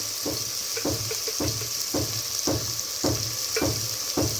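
Onions salted and sprinkled with turmeric sizzle in a clay pot on low heat, a steady close frying hiss broken by regular scraping stirs about every half second.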